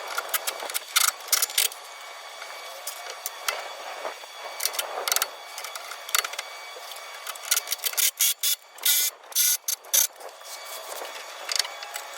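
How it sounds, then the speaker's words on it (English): Metal clicks and ratcheting from a hand tool snugging U-bolt hangers onto a traction bar on a 2017–2020 Ford F250, in irregular bursts of short sharp clicks with pauses, close and fairly loud, growing denser toward the end. "you start out by putting the U-bolt hangers on and just snugging them down"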